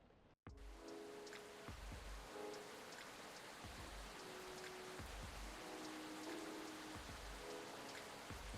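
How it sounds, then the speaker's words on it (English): Rain falling in a video game, a soft, steady hiss of rainfall with gentle drop patter and faint low tonal hums underneath, continuous after a brief cut at the start, with no talk. "Damn, it's fucking raining."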